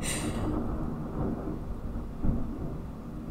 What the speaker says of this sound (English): whoa, that was a crash of lightning